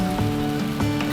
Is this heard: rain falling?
yes